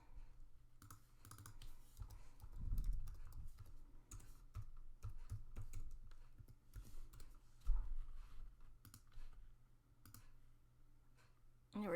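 A password is typed on a computer keyboard, with soft, steady clicking keystrokes running throughout at close range and low volume, and no voice.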